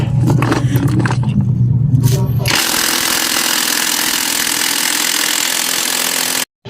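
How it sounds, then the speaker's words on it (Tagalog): A motorcycle engine fitted with a direct dry clutch idles near 1000 RPM, a low rumbling drone that gives way to a loud broad rattling, clattering noise for several seconds before cutting off, no speech. "So ngayon try na natin yung 1K RPM."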